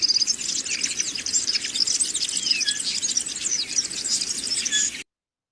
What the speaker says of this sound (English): That's the sound of a swallow.